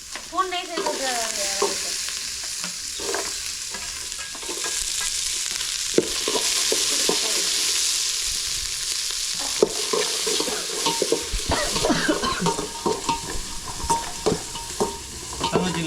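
Mustard seeds splutter and crackle in hot oil, a loud, continuous sizzle with rapid popping that grows busier toward the end, close up and without speech.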